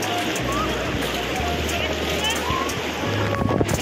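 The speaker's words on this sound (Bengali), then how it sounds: "বড় ঢেউ আসছে, বড় ঢেউ।" Big ocean waves at Puri beach roll in as a continuous loud roar of surf with wind rumble, while people talk nearby over the crashing water.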